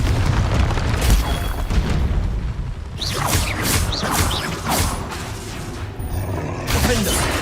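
Blasts of the Confringo fire spell in Hogwarts Legacy, a dense rumbling stream of booming explosions and swooshing magical bursts layered in game noise, loud and continuous throughout.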